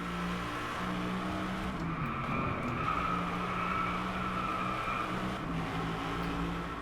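An Aston Martin Vantage V12S roars through the Driveclub racing game on a Japan track, its engine droning steadily with a constant mid-pitched hum and a tire-squeal edge as it leans hard through corners.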